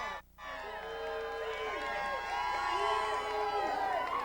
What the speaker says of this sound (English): There is a crowd of about 30 or 40 fans here.